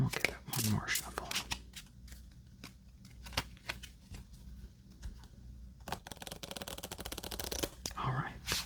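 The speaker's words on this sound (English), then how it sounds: "And we'll give it one more shuffle." Riffling card shuffles crackle in quick bursts, with soft handling and a few sharp snaps between them, fairly close.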